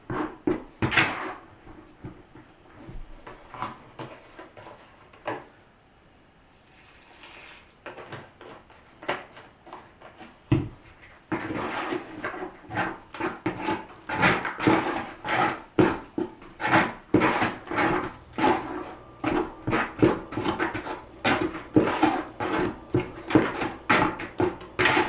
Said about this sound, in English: You can use a micro trowel like I'm using here.